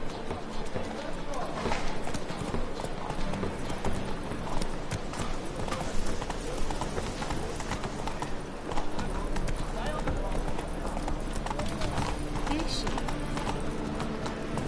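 A horse gallops in The Witcher 3, steady rhythmic hoof clip-clops running throughout under a dense mix of game sound and music, with someone talking over it.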